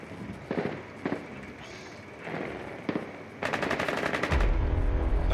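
Rapid automatic gunfire from the video game Rainbow Six Siege, loud bursts of repeated shots with a few single cracks, ending in a sustained close volley.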